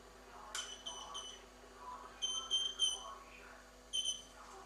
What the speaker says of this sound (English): Makes a few beeps,